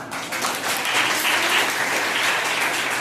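A hall audience applauds during a talk on suicide prevention, with continuous, fairly loud clapping from start to finish and no speech over it.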